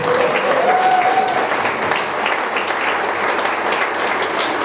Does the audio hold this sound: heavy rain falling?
no